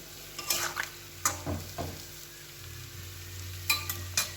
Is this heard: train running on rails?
no